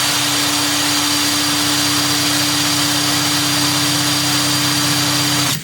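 A SHIDOKU SH G2 cordless 3/4-inch impact wrench spins free at close range with a loud, steady motor whine and hum, then cuts off abruptly near the end.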